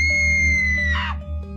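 A person's scream on finding a corpse, a high tonal cry with a sharp rising burst near the end, loud over a steady low droning hum, with no other voices.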